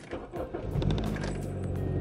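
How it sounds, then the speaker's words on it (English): A car engine runs steadily at close range while being driven a short way into a driveway, a low rumble holding under faint handling noises. "I'm moving my car to the driveway right now because we're gonna put them on"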